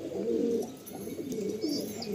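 Madrasi pigeons coo softly inside a loft, a low rolling murmur that keeps going with faint chirps above it and no one speaking.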